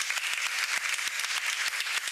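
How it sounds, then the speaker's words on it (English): An audience at a round table in a congress hall claps steadily, with dense overlapping hand claps that sound fairly close and carry on throughout with no talk over them. "Let's give an amazing applause to this round table."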